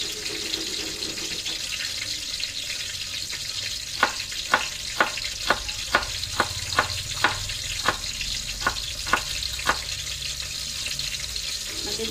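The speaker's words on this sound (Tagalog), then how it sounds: "Lagyan natin sibuyas." Small onions fry in a pan under a continuous hissing sizzle, while a spatula strikes and scrapes the pan in a steady, evenly spaced rhythm of about a dozen taps through the middle of the clip.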